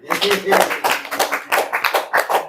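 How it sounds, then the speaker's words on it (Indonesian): A small audience claps hands at a motivational talk, a handful of distinct, uneven claps in loose bursts with a voice speaking over the start. "Tepuk tangan lah"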